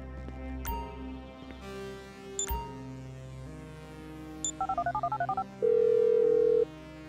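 A phone being dialed in Grand Theft Auto V: a few scattered beeps, then a quick run of about ten short keypad tones, and finally one longer steady tone, all over a low musical bed.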